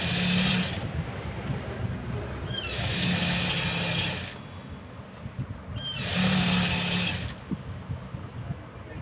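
A sewing machine stitches a blouse in three separate runs, each a loud steady whirring hum lasting a second or two, with quieter handling noise in the gaps between them.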